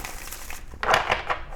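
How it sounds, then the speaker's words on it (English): Crisp crinkling and shuffling of tarot cards, a few quick riffling bursts after a quiet start, close by with no talking. "let's go ahead and get a shuffle in here."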